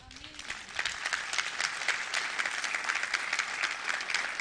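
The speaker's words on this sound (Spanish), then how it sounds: "Denle un aplauso a Dios." Steady applause from a sizable church congregation, many hands clapping in a dense, continuous patter at moderate distance, with no talk.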